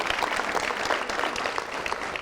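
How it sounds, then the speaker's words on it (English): A studio audience at a televised debate gives a round of applause, dense and steady clapping from many hands throughout. "Round of applause for him."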